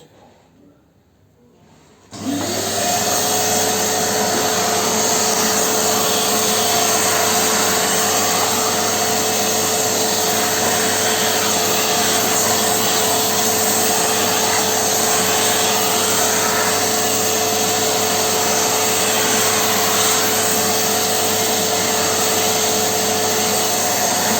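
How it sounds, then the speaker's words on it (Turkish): After a brief quiet moment, a vacuum cleaner starts up and drones loudly and steadily with a constant whine until the end. "Bunlar da elektrik süpürgesi."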